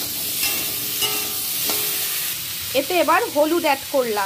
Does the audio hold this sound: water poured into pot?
no